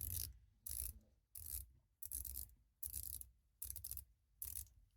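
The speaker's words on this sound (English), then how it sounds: "The bezel spring sounds like this." The sprung bezel of a Rotary Seamatic GMT Pepsi watch ratchets as it turns, giving seven short, crisp clicking bursts at an even pace, close up and faint, with no voice.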